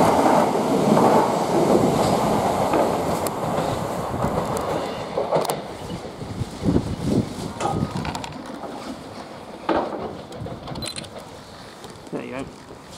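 A Southern Class 377 electric train passes a level crossing at Ford heading for London Bridge, a loud rushing rumble with clattering wheel clicks that fades away gradually.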